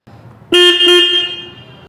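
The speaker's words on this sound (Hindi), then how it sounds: "तो कुछ इस तरीके का हॉर्न है इस पर्टिकुलर बाइक का।" A Royal Enfield Scram 440 motorcycle gives one loud, close, steady horn blast lasting about a second, with a slightly wavering start, above a low idle rumble.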